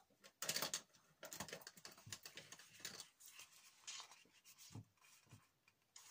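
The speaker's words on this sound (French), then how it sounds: "prenez une paire de ciseaux et on coupe" Scissors cut through fabric for a flap pouch, a run of close, crisp snipping and crunching strokes in irregular rhythm, quiet overall and with no voices.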